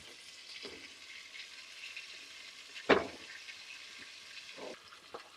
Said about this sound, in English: I'm going to add enough to cover the bottom of my Dutch oven.